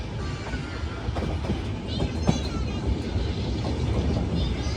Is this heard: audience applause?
no